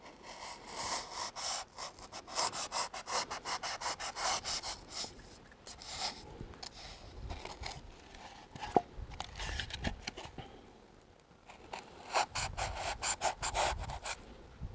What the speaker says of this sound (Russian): Давайте с вот этого моего знаменитого кусочка пенопласта сначала попробуем тоненькие кусочки поснимать